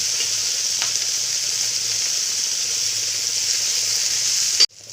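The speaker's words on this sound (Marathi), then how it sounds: "आता हे शेंगा टाकून आहे ना चांगले याला कमी गॅसवर परतून घेऊ आपण" Cluster beans tossed in turmeric and spices over low heat give a steady, even sizzle with a soft bubbling undertone, close and continuous until it cuts off abruptly near the end.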